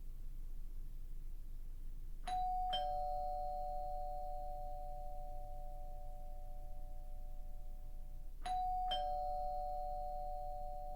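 A two-tone doorbell chimes twice, then rings again several seconds later, each ding-dong ringing out clearly over a quiet background.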